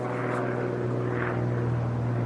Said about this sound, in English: So that first plane was a red color.